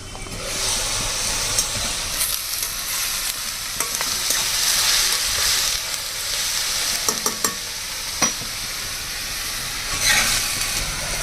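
Onions frying in a hot pan, a continuous bright sizzle and hiss with occasional crackles and pops and the scrape of stirring, close up and steady for the whole stretch.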